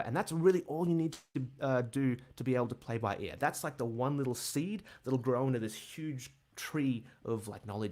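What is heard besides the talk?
No distinct noise like a dog, phone or traffic.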